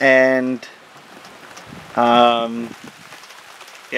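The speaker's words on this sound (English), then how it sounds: "the rain started about 20 minutes ago, and it's supposed to rain all day" Steady rain falls on a freshly plowed hay field, a continuous soft hiss of drops running throughout while someone speaks briefly at the start and again in the middle.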